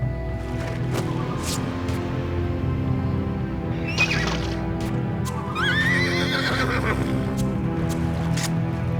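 A horse neighs repeatedly in the Battle Realms strategy game, with shrill rising whinnies and snorts over a layered battlefield ambience, fairly loud and close with no talk.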